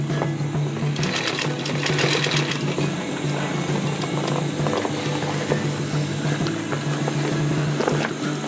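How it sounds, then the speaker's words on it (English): A sewing machine runs a regular reinforcing stitch around a DIY rollup bag, giving a continuous close mechanical hum and rapid needle chatter that holds steady with only brief shifts in pace, no voices over it. "now we'll do a regular stitch around once again, just to reinforce it"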